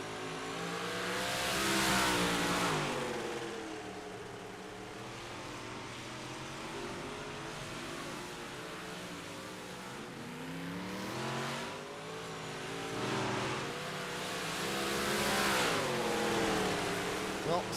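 Modified race car out on the I-55 racetrack, engine revving and shifting pitch as it rises and falls through laps, swelling louder on passes and easing off between, with other cars audible around it.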